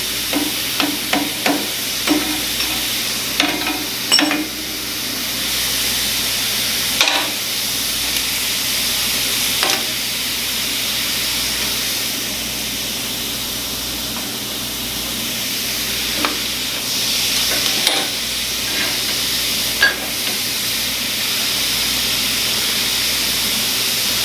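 A Prime Weld Cut 60 plasma cutter slicing slowly through half-inch steel plate, giving a steady loud hiss with intermittent crackles and pops throughout, alone without talk.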